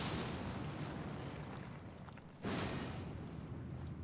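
A monster explodes in Elden Ring inside the city of Leyndell, a sustained, roaring, noisy rumble that fades briefly and then bursts back in strongly for a second wave, with no speech.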